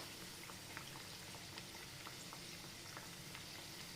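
Chicken and potato samosas frying in a pan, a steady soft sizzle with scattered small pops and crackles throughout, fairly quiet and with no talking.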